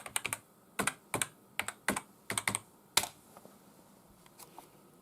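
Quick bursts of key presses on a computer keyboard while logging in to an iMac G3, about a dozen close, sharp clicks in uneven clusters that thin out toward the end, with no talking.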